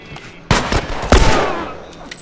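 Gunfire in The Last of Us: two sharp, loud shots about half a second apart, each cracking out and then decaying into a long echoing tail, with faint game ambience between.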